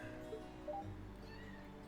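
A talking cat in the video game Trails of Cold Steel gives a couple of short, high meows over steady game music, close and fairly quiet, with no speech.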